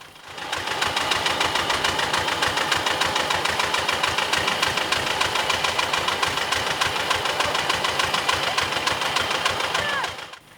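An old kolkhoz tractor engine runs at a harvest reenactment with a rhythmic, evenly pulsing knock. It is close and steady for about ten seconds and fades at the end.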